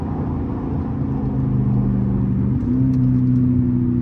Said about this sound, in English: Heard them downshifts.